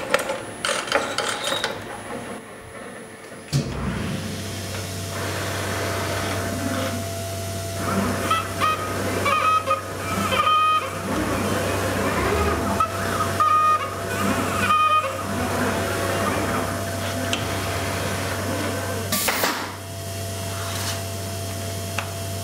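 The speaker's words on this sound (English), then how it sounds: "we're going to do a quick demonstration with the saber blade cut in 3mm Formex" An AXYZ CNC router with a tangential knife drives its saber blade through 3mm Formex sheet, giving a steady mechanical hum with ratcheting, clicking cuts and squeaky scraping bursts that come and go, close and fairly loud.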